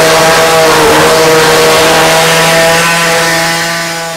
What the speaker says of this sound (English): So I'm going to rough cut this out with the saw